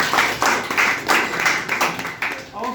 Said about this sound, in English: Well done, clap for that.